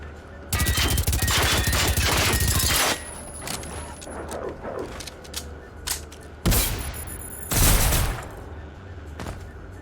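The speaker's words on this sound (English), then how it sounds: "What is that guy shooting at me?" Enemy gunfire in the video game Generation Zero: a dense burst of rapid shots for a couple of seconds, then scattered single cracks and a second loud burst later, fairly close.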